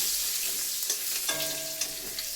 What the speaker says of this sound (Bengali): এই যে রসুনটা দিয়ে দিচ্ছি। রসুনটা একটু ভাজা ভাজা হয়ে যাবে।